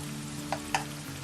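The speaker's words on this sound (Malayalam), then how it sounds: "ഏകദേശം ഒരു 3-4 മിനിറ്റ് നേരം ഒരു സൈഡ് ഫ്രൈ ചെയ്യുക" Prawns frying in oil on a medium-high flame for a Kerala-style prawn roast, giving a soft continuous sizzle with two brief stirring scrapes, quiet and with no talk.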